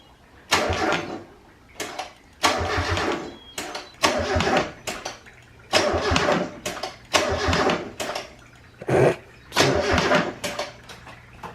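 A turbocharged Mazda Miata engine cranks repeatedly in short bursts, each whirring crank stopping and restarting, close and loud, without catching into a steady run, with a suspected ignition coil fault.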